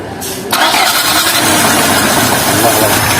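A rebuilt scrapyard car engine cranks and catches after a brief whir, then settles into a loud, steady idle that runs on evenly.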